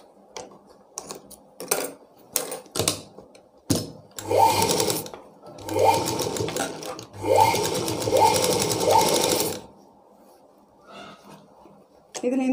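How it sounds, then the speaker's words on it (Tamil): Sewing machine stitches a blouse back in several short bursts of fast, close mechanical whirring with clicking, separated by handling taps and pauses, and a person speaks briefly in between. "இதில் ஒரு படிமான தையல் போட்டுக்கலாம்."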